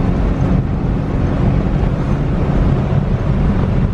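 A Suzuki Samurai cruising in gear, its low engine drone and road rumble steady throughout, heavily buffeted by loud wind noise across the microphone with no talking.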